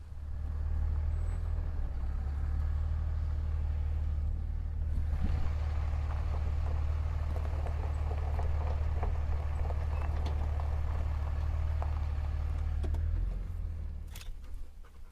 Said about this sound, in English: So we're going to back the dump trailer up to this pile of wood.